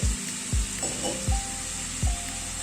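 Coconut-coriander masala sizzles steadily as it is sautéed in a pan, a continuous frying hiss broken by four evenly spaced low thumps of the spatula against the pan.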